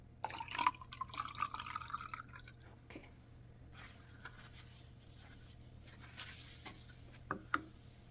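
Water is poured into a microwave cleaner, with a few soft drips and a light liquid trickle early on, then faint splashes and taps over a steady low hum in a quiet home.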